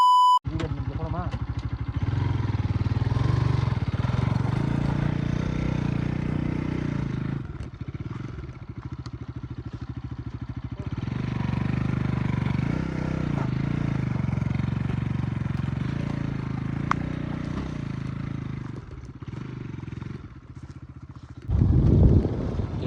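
Motorcycle on a rough off-road dirt track, its engine droning steadily at a fairly constant pitch for the whole stretch, close and continuous, with a rider speaking over it at times.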